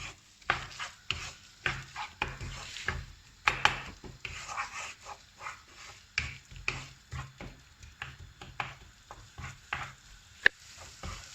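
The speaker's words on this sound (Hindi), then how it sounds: "अब टमाटर को इसमें अच्छे से भून लेंगे" Chopped tomato and onion fry in a pan for a spinach dish, with a soft sizzle beneath repeated, rhythmic stirring scrapes and taps, up close, with no one talking.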